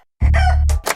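A chicken at a poultry farm lets out one loud, close squawk that runs for over half a second, followed by a short cluck.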